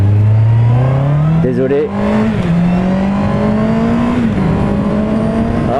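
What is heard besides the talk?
Honda CB650R four-cylinder motorcycle engine revving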